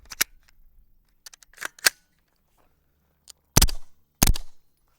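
A suppressed PSA JAKL-9 fires Staccato 136 subsonic ammunition: four sharp, muffled reports spread unevenly across a few seconds, with faint clicks of handling between them in otherwise quiet surroundings.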